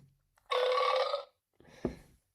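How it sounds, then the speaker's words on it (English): A short synthetic burst sounds, followed after a gap by a low, croaky burp-like noise; brief and isolated against silence. "there's a burp thing on here, I think"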